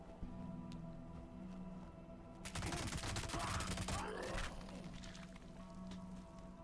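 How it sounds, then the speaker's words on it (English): Rapid bursts of gunfire from a Quad Handmade rifle in Fallout 76, a dense volley of close, loud shots that runs for a second or two and then recurs in a shorter burst over a steady background hum. "we can just kind of unload and keep firing, keep that suppressing fire up"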